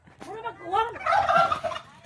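A turkey gobbles once, close by, in a rapid warbling burst that rises into a harsh rattle.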